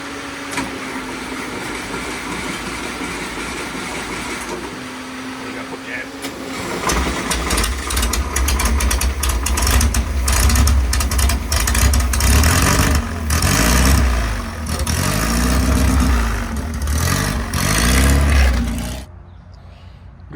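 A 1976 VW Beetle engine cranks and catches around the middle, then runs with an uneven idle and a few throttle blips before cutting off abruptly near the end.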